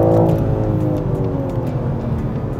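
A BMW M3 Touring's engine hums with a steady, loud, low drone while driving, holding an even tone without clear revving.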